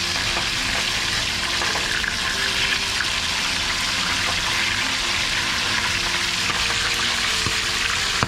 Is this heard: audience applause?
no